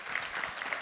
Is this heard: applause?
yes